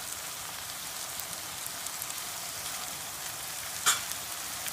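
Diced ripe tomatoes fry with onions in a pan, a steady hissing sizzle held at an even level with one brief sharp clink near the end and no voices.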